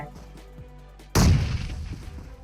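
A sudden sharp grenade explosion in the video game PUBG Mobile bursts after a moment of quiet background, loud and close, followed by a rumbling, crackling decay.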